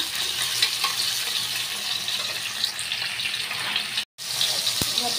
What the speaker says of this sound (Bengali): এটা একটুখানি ভাজা ভাজা করে নেব।